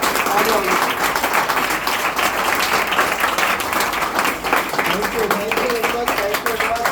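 Sustained applause from an audience, dense clapping that stays loud and steady throughout, with a crowd murmur beneath.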